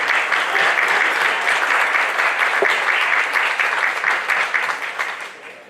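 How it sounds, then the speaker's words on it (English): Dinner audience gives a sustained, dense round of applause, loud and steady throughout before tapering off near the end, with no speech over it. "give them a big round of applause"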